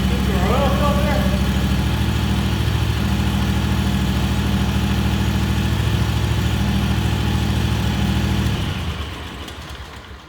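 The engine of a John Deere WG36A runs during an oil service, pumping oil from the crankcase into the filter. It gives a steady, close mid-pitched idle that cuts off and dies away near the end.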